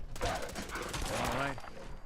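Sustained burst of Gatling laser fire in the Fallout 4 video game, a dense, loud, continuous crackling stream that rolls on for about two seconds with a rising whine and voices mixed in underneath.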